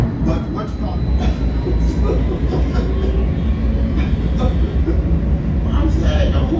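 A light rail train running along its line, a continuous low rumble and rattle with faint clicking from the track, steady and close, with people talking over it.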